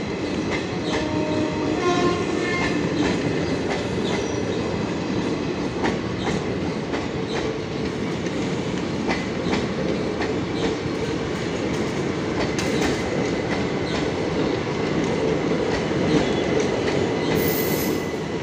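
The Bhubaneswar–Visakhapatnam Intercity Superfast rolls loudly past Brahmapur railway station, with continuous rumbling wheels, rhythmic clickety-clack, metallic squeals and a horn blast early on.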